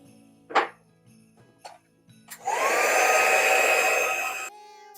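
A few small handling clicks and taps lead into a close hair dryer whirring loudly for about two seconds while drying a Christmas village bauble, then switching off.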